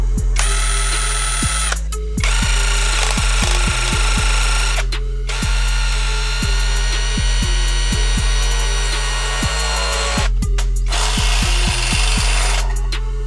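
A power drill bores into a motorcycle front fender extension bracket for a Yamaha NMAX: a loud, steady whine runs in long bursts, stopping and restarting several times, with brief gaps between runs.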